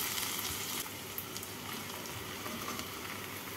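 Pointed gourd pieces fry together with potatoes in a pan, giving a steady, fairly quiet sizzling hiss throughout with no voices.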